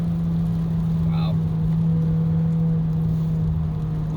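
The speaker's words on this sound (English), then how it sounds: "Loud intake noises." A turbocharged Kia Soul GT tuned with a JB4 accelerates with a steady droning engine hum inside the cabin, a brief whistling intake chirp rising early on, heard close under low road noise.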